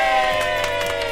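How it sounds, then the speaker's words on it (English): An audience cheering and applauding after a musical performance, a dense close wash of crowd noise with whoops, steady and loud throughout the short moment. "You get a lot of applause for that."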